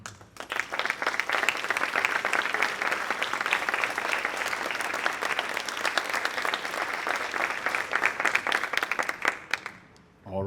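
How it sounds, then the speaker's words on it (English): A room of alumni at a homecoming recognition breakfast gives a sustained round of applause, dense clapping holding steady for about nine seconds before tapering off at the end. "If they would please stand, and we can give them a round of applause as well."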